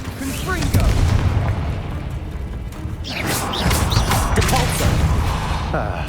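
A Confringo fire blast spell bursts in Hogwarts Legacy, a booming, crackling impact followed by a second loud blast amid dense game combat noise.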